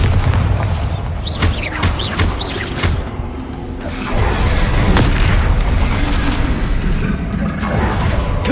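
The Bombarda spell in Hogwarts Legacy sets off repeated heavy booms with rumbling blasts and crackling debris, loud and sustained throughout.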